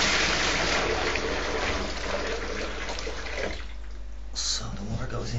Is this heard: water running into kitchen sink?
yes